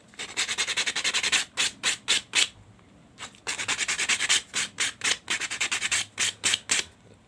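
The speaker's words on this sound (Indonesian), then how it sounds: "Kita gosok sampai rata lah." A tiny handmade 1.5 cm fishing lure is sanded smooth by hand, with loud, close, rapid rhythmic rasping strokes in quick bursts, broken by a short pause midway.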